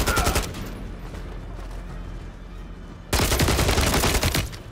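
Rapid video game gunfire from Modern Warfare III, with loud bursts at the start, a quieter stretch in the middle, then a dense, close volley of shots through the final second and a half.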